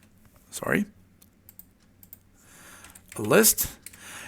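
Keys on a computer keyboard tap in a quiet, sparse run, with someone talking briefly at the start and again near the end.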